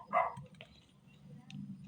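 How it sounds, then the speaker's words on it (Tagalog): A dog barks once at close range, a short yelping burst near the start, while low indoor rumble and faint voices continue after it. "Nag-ingay man yung aso."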